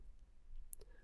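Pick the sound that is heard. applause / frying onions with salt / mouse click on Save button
mouse click on Save button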